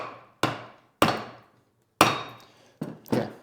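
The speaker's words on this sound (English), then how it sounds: "So I'm just gonna switch to an actual hammer." A metal hammer strikes five times at uneven intervals, sharp, close and ringing briefly, against parts during an 80 Series transfer case rebuild, with no talking.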